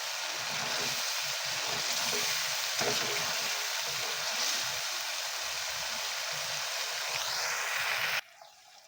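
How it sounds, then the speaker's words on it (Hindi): Chicken frying with salan masala in a pan over a high flame gives a steady, loud, dense sizzle that holds evenly for about eight seconds before cutting off abruptly. "और हाई फ्लेम पे 4-5 मिनट अच्छी तरह से भून लेंगे।"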